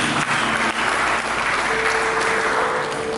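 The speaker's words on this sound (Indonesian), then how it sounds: "Mari kita bikin tepuk tangan." A church congregation applauding together during a sermon in a grand church, a thick, steady wash of many hands clapping, loud and continuous, with a faint held tone appearing in the latter half.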